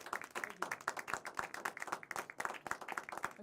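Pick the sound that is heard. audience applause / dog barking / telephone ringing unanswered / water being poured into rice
audience applause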